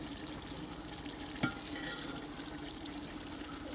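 Whole spices (black cardamom, black pepper, cloves, cinnamon, cumin) sizzling in a pot of frying mutton for a dhaba-style degi dish, a steady close hiss with one brief clink.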